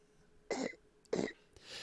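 A person imitates a cough, giving two short, harsh throat bursts about half a second apart, followed by a softer breathy rasp, close and fairly quiet.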